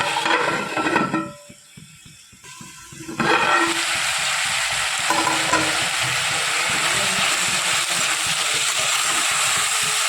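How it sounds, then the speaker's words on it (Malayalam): After a brief clatter and quiet moment, a loud, steady sizzle fills the air as onions sauté in a hot pan. "ഇതൊന്ന് നല്ല ഉള്ളിലൊന്ന് വഴറ്റിയെടുക്കണം"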